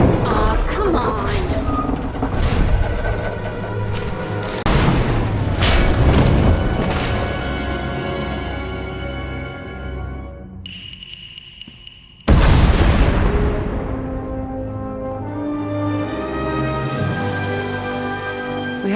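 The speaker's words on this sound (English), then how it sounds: "We heard explosions." Repeated booming explosions with rumbling debris in the video game Star Wars: The Old Republic, loud and dense, a brief lull with a high whine, then another sudden blast.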